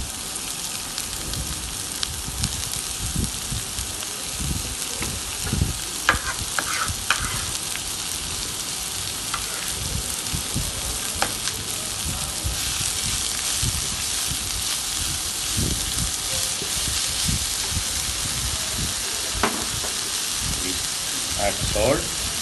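Spinach and softened onion sizzling and frying in a pan, with steady hissing and intermittent scraping stir strokes throughout.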